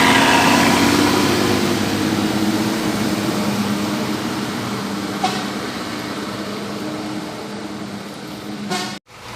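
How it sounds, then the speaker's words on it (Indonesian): A PMH bus entering a terminal in Pekanbaru, its engine running in a steady broad rumble with a brief horn-like tone near the end, close and loud throughout with no talk. "Bus PMH telah memasuki juga"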